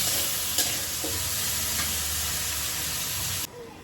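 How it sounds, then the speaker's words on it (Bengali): Chopped onion and potato fry together in a pan, a steady dense sizzle with occasional scraping stir sounds, close and continuous until it cuts off abruptly near the end. "পেঁয়াজ আর আলু একসঙ্গে ভাজা হতে হতে আমি মশলাগুলো রেডি করে নেব"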